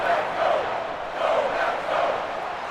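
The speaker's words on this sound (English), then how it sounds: "the crowd getting into it as we come up on a big 3rd down" A stadium crowd in a Madden NFL game between the Detroit Lions and Green Bay Packers roars steadily ahead of a big third down, a dense distant cheer swelling in waves.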